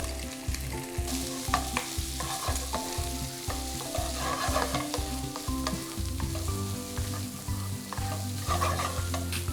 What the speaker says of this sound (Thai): เราก็จะใส่ กุ้งลงไปครับ ตามด้วยกระเทียม และก็สับปะรด